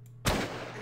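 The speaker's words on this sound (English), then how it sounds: "No, but I can shoot this guy." A single shot fired in Mount & Blade Warband with the Nova Aetas mod, a sudden sharp report after near silence, fading into a lingering low rumble.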